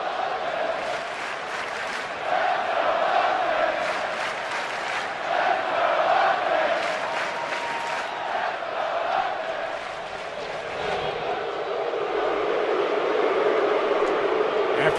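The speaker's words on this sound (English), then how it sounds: "And listen to the crowd tonight." A big stadium crowd roars an ovation for a batter at an Atlanta Braves home game against the Phillies, a loud sustained swell of cheering that rises and falls across the whole stretch, with no one speaking over it.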